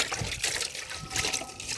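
Water pours steadily into a cooking pot for a village brain curry, a continuous splashing trickle heard close up with no talking.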